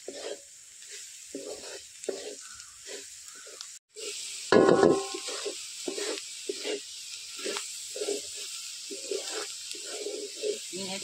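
Vegetable sabzi cooked without water is stirred and fried in a pan, giving a steady soft sizzle punctuated by rhythmic spatula scrapes, with one louder clatter partway through.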